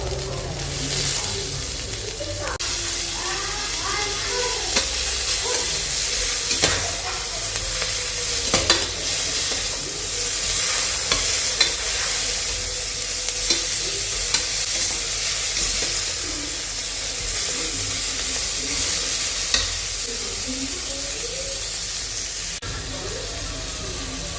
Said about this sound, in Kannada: ಪುದೀನ ಕೊತ್ತಂಬರಿನೂ ಫ್ರೈ ಆಗಿದೆ